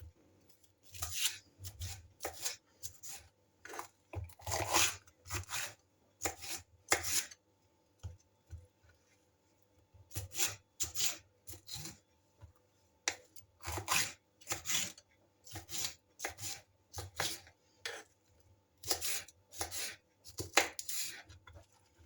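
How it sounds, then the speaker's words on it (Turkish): Bell peppers are sliced thinly with a knife in bursts of quick, crisp cuts separated by short pauses, close and fairly quiet, with no talking. "Şöyle ince ince doğruyorum"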